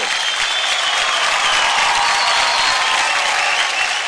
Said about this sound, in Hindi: जोरदार तालियां हो जाए बिनी शर्मा के लिए